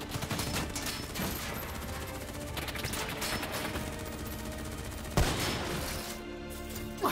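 Sustained gunfire and bursts of shooting in a Call of Duty Black Ops 3 combat scene, dense and continuous throughout with a sharp louder shot near the end.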